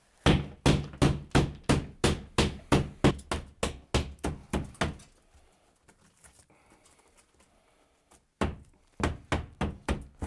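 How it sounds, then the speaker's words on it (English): A rapid series of sharp, loud hammer blows knocking a hole in a wall of old wood lath for about five seconds, then a pause, then the pounding resumes; close and percussive. "I'm going to make a hand hole with a hammer"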